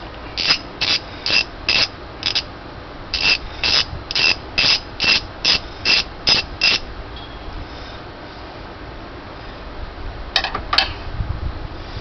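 A ratchet clicks through a run of about a dozen evenly spaced bursts while a fitting is loosened on the power steering system of a 2009 Honda Accord 3.5L V6, close and fairly loud, then stops, with two brief clicks near the end.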